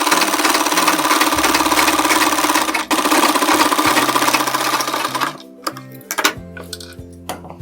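A sewing machine runs steadily and loudly for about five seconds, stitching around the lining of a sleeve, then stops. Sparse handling clicks and light rustling follow.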